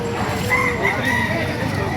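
A rooster crows once in a drawn-out call, heard close over a busy chicken market in Baliuag, Bulacan, with a person talking nearby.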